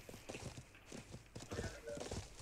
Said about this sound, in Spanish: ¡Viene un caballo!